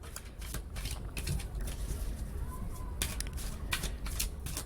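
Tarot cards riffle and snap in short crisp bursts, several quick shuffles close up with pauses between them and no talking over them.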